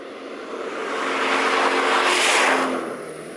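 A classic Triumph TR sports car engine revs up and accelerates hard, its roar swelling to a peak and then easing off, close and loud.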